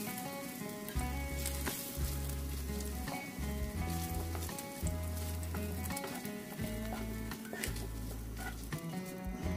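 Cinnamon pieces and a dried red chilli sizzle in hot oil in a pan after paneer was fried, a steady crackling fry broken by rhythmic scraping thumps of stirring.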